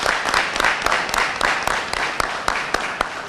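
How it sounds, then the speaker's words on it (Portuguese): Dense applause from a gathered group of FAPLA ex-combatants during a visit to the Rio Seco facilities, steady overlapping claps with a few sharper hand strikes standing out, sustained throughout. "Foi com estas salvas de palmas."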